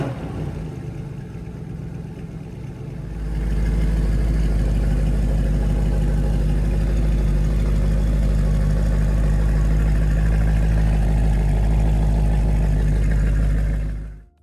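A Mercedes SL63 AMG's hand-built 6.2-liter naturally aspirated V8 fires up after a few quiet seconds into a loud, deep, steady rumble that holds close and strong until it cuts off at the end.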